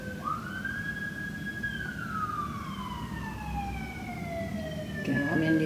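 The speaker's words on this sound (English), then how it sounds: "you're probably hearing the ambulance" An ambulance siren wails in a long descending tone, as if passing by and fading, over steady New York City traffic noise, with a clunk near the end.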